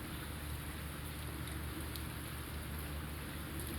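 Rain falling steadily on an open rooftop terrace during an unseasonal winter shower, a continuous dense hiss of drops that stays even and fairly loud throughout, with no voices.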